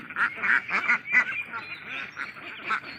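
Ducks of assorted breeds, including the Nakhon Pathom breed, quack and honk repeatedly while grazing on grass in the evening, a busy overlapping chorus of close calls.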